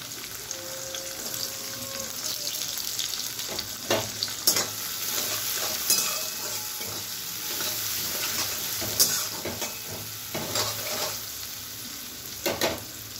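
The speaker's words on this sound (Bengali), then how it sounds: "একটু হালকা ভাজা হবে। এবারে আমি এতে দিচ্ছি কুচনো পেঁয়াজ," Chopped onion frying with garlic in a pan for a garlic egg curry, a constant soft sizzle broken by repeated scraping and clattering stirs, close and alone without talk.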